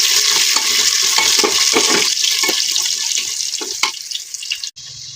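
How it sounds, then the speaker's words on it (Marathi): Peanuts stirred and fried in a pan give a dense, continuous sizzle with rapid scraping strokes, close and loud, easing off near the end with a brief drop to near quiet. "तर आपण याच्यामध्ये शेंगदाणे टाकणार आहोत तर याला आपण चांगलं परतून घेऊ"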